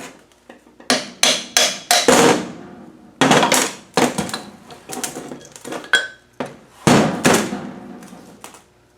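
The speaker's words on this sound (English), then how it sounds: "we should be able to put the nut back on and tap through the pinion" A hammer taps the pinion out through a salvaged Rover 2 pin differential. Sharp metallic blows come close and loud, in quick clusters with short pauses between them.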